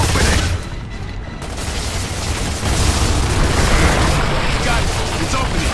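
Heavy gunfire and explosive booms in the game Gears of War 2 form a loud, continuous battle din of overlapping shots and blasts.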